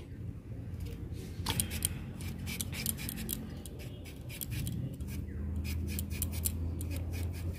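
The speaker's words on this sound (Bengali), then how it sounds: "এই রকম করে সবগুলো আলুকে কেটে নেব।" Potatoes cut into thick strips for french fries, with quiet repeated knife scrapes and crisp slicing strokes against a board, close but faint in a calm kitchen.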